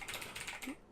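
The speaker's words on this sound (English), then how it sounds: "I just had to do a little bit of clacking on the keyboard there." Quick clacking on a computer keyboard, a rapid burst of close, sharp key strikes lasting under a second with no speech.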